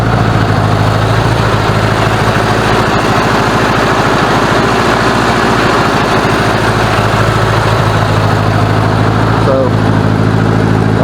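A 1986 Honda Goldwing GL1200 motorcycle engine idles loud and close, a continuous throbbing rumble with a slightly uneven, lumpy rhythm that never stops, running rough from low voltage.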